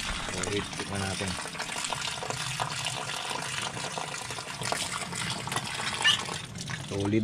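Water runs steadily from a tap on a ride out to Gyoran no Taki falls, a continuous close splashing stream under people talking.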